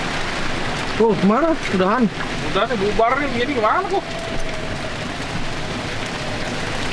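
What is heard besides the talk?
rain falling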